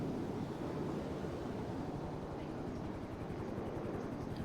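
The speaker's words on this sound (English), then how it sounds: "I hear a helicopter." A helicopter flies overhead with a steady low rotor thrum and a broad wind-like roar throughout, sounding fairly distant.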